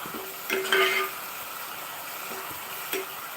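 Mustard oil mixed with sunflower oil heats in a pan for a fish curry, giving a steady soft sizzle with a few brief scraping clinks near the start and again toward the end.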